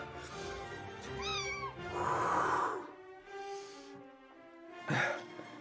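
A cat meows several times with rising, drawn-out cries, close and clear, with short breathy pauses between calls and no talking.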